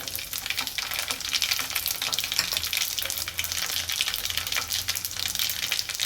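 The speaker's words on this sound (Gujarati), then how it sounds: "જીરું નાખીશું, હિંગ નાખીશું, આખી કળી અને સૂકા લીમડા પાન નાખીશું." Cumin seeds, asafoetida, whole garlic cloves and dried curry leaves crackle and sizzle in hot oil for a Gujarati tempering, a steady, dense frying hiss throughout with no one talking.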